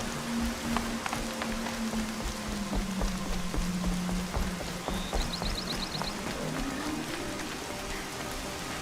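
Steady rain patters densely across surfaces in the video game Horizon Zero Dawn, a constant hiss of drops with a low tonal hum and faint electronic chirps underneath, no talking.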